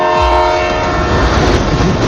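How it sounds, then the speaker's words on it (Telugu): A train horn blares loudly in a comedy scene from the film Rajasaab, sustained throughout over a dense, close rumble of rolling rail cars. "పట్టాలు లేకుండా ట్రైన్ ఎలా వచ్చింది?"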